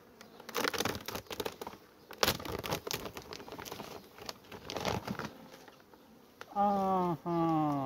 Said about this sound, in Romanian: Albina chiar s-a retras pe această ramă